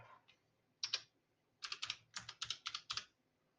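Keys clatter on a computer keyboard as a heading is typed into an Excel cell comment: a lone keystroke, then a quick run of crisp, close clicks in a quiet room with no voices.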